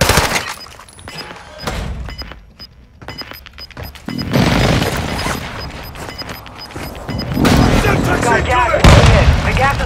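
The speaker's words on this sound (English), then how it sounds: "Hostile airstrike near your location." Airstrike blasts in the video game Call of Duty Warzone, heavy booms and crashing debris rolling in over several seconds, loud and close, with gunfire-like cracks and game voice chatter mixed in.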